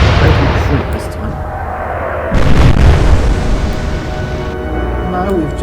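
Warship guns in the Atlantic Fleet naval combat game go off in a single loud boom over a steady low rumble, the blast ringing out and settling back into droning background noise.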